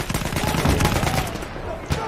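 Rapid bursts of Battlefield 1 gunfire crack loudly and close together in a dense, continuous volley, tapering off near the end of a short stretch.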